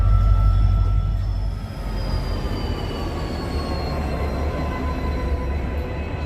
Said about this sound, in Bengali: দেখছেন দূরপাল্লার ট্রেনগুলো আগরতলা রেল স্টেশনে প্রবেশ করছে।